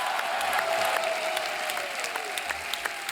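Studio audience applause on a comedy talk show as a guest is welcomed, a continuous, even clapping from a crowd, fairly loud and steady, with a faint sustained tone running under it.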